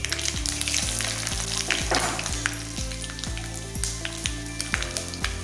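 Dried red chillies crackle and sizzle in hot oil for a Kerala mango pulissery, with fenugreek in the pan, a dense continuous frying hiss close up, punctuated by a steady repeating low pulse and no talking.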